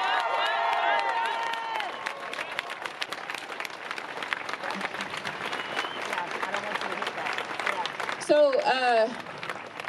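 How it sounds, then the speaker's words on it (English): A crowd at an outdoor Fourth of July day-of-action rally claps and cheers, a rattling wash of applause at moderate distance with voices mixed in and a brief louder outburst near the end. "I want a real round of applause."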